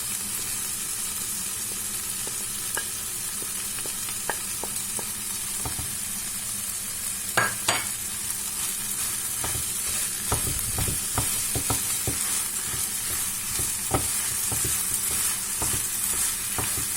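A stuffing of vegetables, olives, parsley and minced meat fries in a pan with a steady close sizzle, broken by irregular scraping and tapping as a utensil stirs it, no talking.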